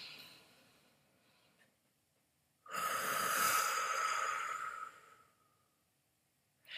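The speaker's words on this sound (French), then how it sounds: "On va respirer profondément." A person takes one slow, deep breath, a soft breathy rush of air lasting about two seconds after a quiet stretch, close and gentle, with near silence around it.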